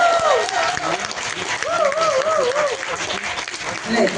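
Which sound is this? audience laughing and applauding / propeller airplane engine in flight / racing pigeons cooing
audience laughing and applauding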